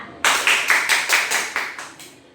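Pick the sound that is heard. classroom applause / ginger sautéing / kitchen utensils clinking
classroom applause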